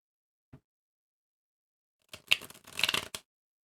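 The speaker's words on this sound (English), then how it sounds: "let's do a better shuffle" A brief soft tap, a pause, then about a second of crisp riffling tarot card shuffles, fairly close and moderately loud, with no talking.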